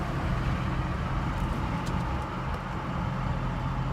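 A Ford 6.0 Powerstroke diesel engine runs with a steady, loud low rumble and broadband roar that holds evenly throughout, with no talking.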